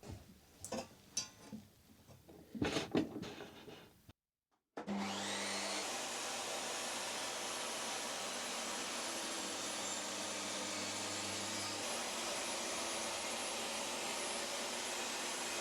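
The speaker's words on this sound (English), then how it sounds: "I'm going to try and do that on the table saw." Table saw cutting a groove in wood: after a few seconds of handling clatter and a brief silence, the saw spins up and runs with a loud, steady, sustained whine for the rest of the clip.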